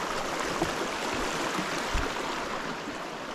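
Water flows out from under a rock where the Río Los Horcones meets the Río Quezalapa, making a close, steady rushing and burbling with no break.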